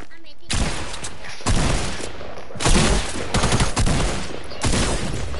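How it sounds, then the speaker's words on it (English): Loud bursts of gunfire, rapid automatic volleys in several separate salvos with short gaps between them, close and dominant. "I'm trying to shoot you."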